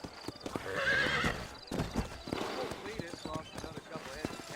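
Horses clip-clopping on the ground with a loud whinny in a Wild West video game set in New Austin, rhythmic hoofbeats close by while someone talks over them.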